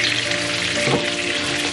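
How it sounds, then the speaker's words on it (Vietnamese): Pork ribs frying in an oiled pan for sweet and sour ribs, a dense continuous sizzle up close with one brief louder burst midway. "Bây giờ mình dán lại dán sơ như thế này thôi."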